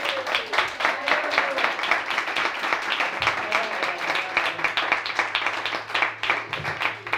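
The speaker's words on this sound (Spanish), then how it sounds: "No hay que pasarse con los aplausos, ¿eh?" Applause and clapping from a pub crowd during a band's introduction of its members, a mix of scattered claps with some rhythmic patches at moderate loudness, with a low hum underneath and brief talk mixed in.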